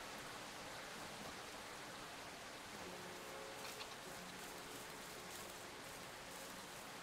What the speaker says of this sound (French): on a une pluie légère